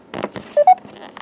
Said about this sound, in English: And you heard my phone beep.